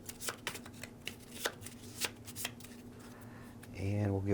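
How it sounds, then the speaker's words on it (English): A loot deck of game cards for a Shadows of Brimstone tabletop session gets shuffled up close in a run of quick riffling flutters, followed by a louder low tone at the end. "We'll give that a shuffle."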